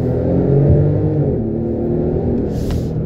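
A 2018 Bentley GTC Supersports with its 700 hp twin-turbo W12 launches off the line, the engine swelling into a deep revving rumble heard from inside the cabin, then settling into a steady drone.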